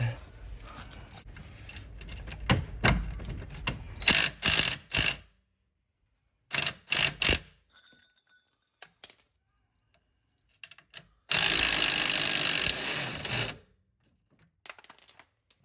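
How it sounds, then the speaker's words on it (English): Short bursts of a power tool with an extension whirring and rattling as it loosens a bolt on a car's coilover, separated by silences and metallic clinks, ending in a longer buzzing run. "let's use a power tool. I'll use this one with an extension."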